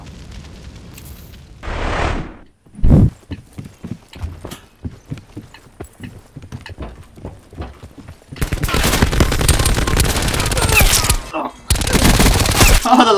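Gunfire in Black Ops 4 during a laggy duos match: a quick run of sharp close shots, then long dense bursts of loud rapid fire, with a player's voice briefly heard.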